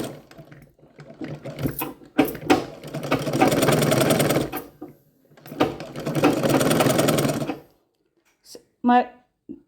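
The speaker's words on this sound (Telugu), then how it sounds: "హాఫ్ ఇంచుతో ఇక్కడ కుట్టు పెట్టేస్తున్నాను" A sewing machine stitches a blouse lining in two sustained bursts of rapid rattling clatter, separated by pauses, with someone speaking between and after the runs.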